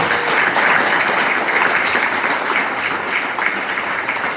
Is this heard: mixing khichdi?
no